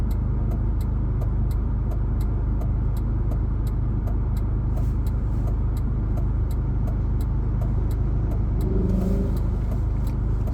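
A car drives west along Hillside Avenue toward the Cross Island Parkway, its steady engine and road rumble filling the cabin, with a regular rapid ticking like a turn signal running throughout and no talk.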